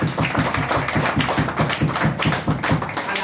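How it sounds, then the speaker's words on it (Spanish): A Christian congregation at a birthday worship service claps in a steady, rhythmic beat, about four claps per second, loud and close and continuing throughout. "Un aplauso a Dios vivo"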